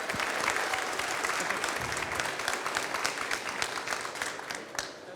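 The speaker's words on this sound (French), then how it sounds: "on peut l'applaudir très très fort" Sustained applause from an audience at a prize-giving ceremony honouring a winner, dense steady clapping with scattered louder claps throughout, heard at moderate distance.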